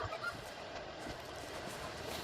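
A chicken clucks faintly in Resident Evil Village, its calls set against a steady wash of game background noise with no talking.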